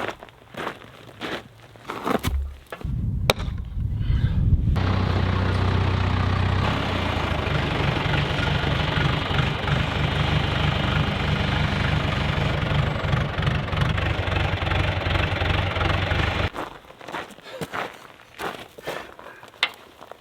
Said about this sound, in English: make sure that we can actually push one in the ground with the tractor